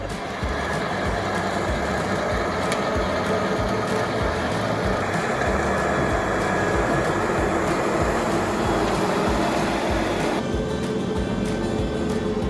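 A lawn mower on a homestead drones steadily and loud with its cutting blades spinning, a constant mechanical roar close by that lightens somewhat toward the end.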